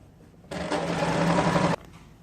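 A sewing machine stitches a dress sleeve in one steady run of a little over a second, loud and close, with quiet room sound before and after.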